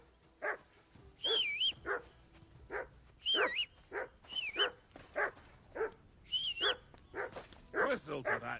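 A dog in the medieval role-playing game Kingdom Come: Deliverance II barks, yips and whimpers repeatedly in quick bursts, close and clear, with high whining cries mixed among the barks.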